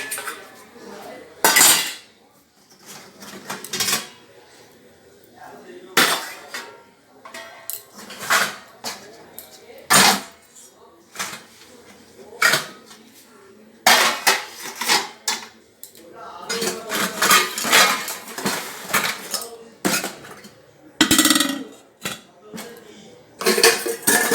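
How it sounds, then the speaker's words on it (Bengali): Dishes, pots and utensils being put away in a home kitchen, repeated clattering clinks and metallic knocks in irregular bursts separated by short quiet gaps, close by, with occasional soft talk. "বাসনগুলো ততক্ষণ গুছিয়ে নিই।"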